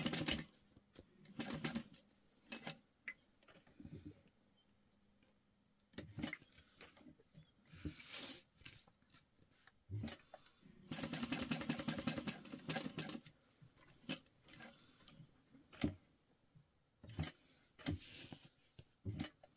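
A sewing machine stitches a clutch bag in short mechanical runs, whirring and clattering in several bursts of a second or two each, with quiet pauses between them and no talking.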